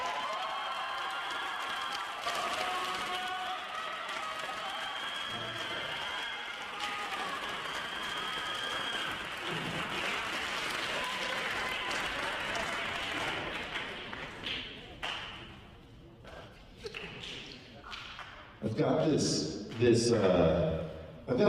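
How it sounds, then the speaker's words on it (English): An audience applauds a senior student at a school band awards night, a dense, sustained wash of clapping for about fifteen seconds before it thins out. Someone speaks over it. "So please give her a warm round of applause to Elizabeth Renata."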